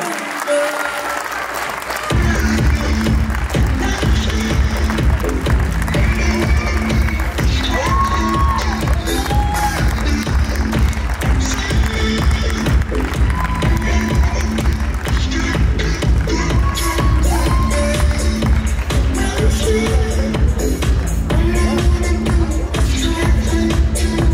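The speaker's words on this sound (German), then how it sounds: "Euer Applaus." An audience at the International Bavarian Championship 2024 women's fitness figure contest bursts into loud, dense applause with cheers and shouts, close and sustained, with rhythmic music pulsing underneath.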